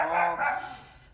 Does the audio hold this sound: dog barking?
yes